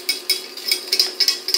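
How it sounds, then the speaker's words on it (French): A metal whisk clatters against a saucepan on the stove while making a praline bavarois custard, with a series of quick, bright, irregular taps and scrapes close to the microphone. "Je vais enlever ma cuillère et je vais reprendre mon fouet."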